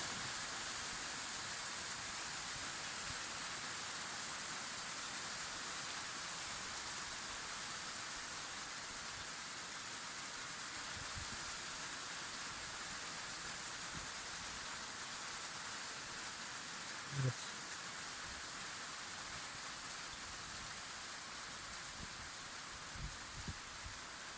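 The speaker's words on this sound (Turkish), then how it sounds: "Çok şiddetli bir yağmur var şu anda." Steady heavy rain in Malatya, Turkey hisses continuously without a break, a dense wash of droplets that stays even throughout, with a faint knock near the end.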